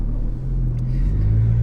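A Porsche 911 991.2 GT3 RS with a sport exhaust burbles at low speed, a deep, steady rumble with a slight swell toward the end, heard close and alone.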